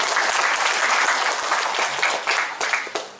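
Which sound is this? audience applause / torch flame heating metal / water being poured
audience applause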